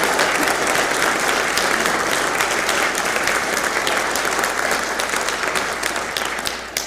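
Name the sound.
concert audience applause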